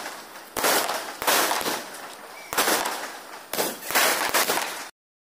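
A 12-shot firecracker set off at home goes off in four sharp, loud bursts with crackling tails, spaced roughly a second apart, then stops abruptly.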